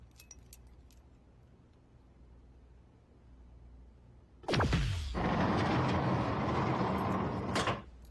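After several seconds of near silence, a bunch of keys jangles loudly and close by as a door lock is worked, followed by a sustained rattle and scrape of the door mechanism that cuts off sharply.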